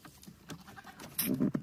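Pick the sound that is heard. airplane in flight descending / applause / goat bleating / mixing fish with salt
goat bleating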